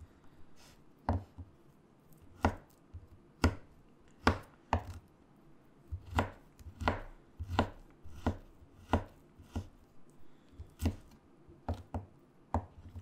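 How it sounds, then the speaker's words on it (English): A knife chops a frozen garlic clove on a board in about fifteen crisp, close, evenly spaced strikes with short gaps, and no one speaks. "Now we can chop a clove of garlic."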